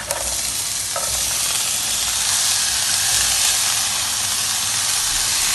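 Chopped chayote drops into a hot pan with sautéed onion for a Kerala-style thoran, giving a loud, steady broadband sizzle and hiss that runs unbroken to the end, with a brief clatter at the start.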